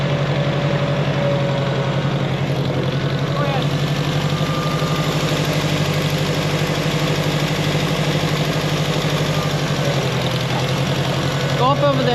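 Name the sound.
vintage tractor engine running, possible exhaust leak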